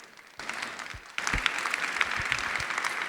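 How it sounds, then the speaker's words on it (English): Audience applause at the Reset Connect 2025 energy transition conference breaks out after a brief quiet lead-in, then swells into steady, dense clapping from a sizable crowd that keeps up to the end. "I would give them a big round of applause"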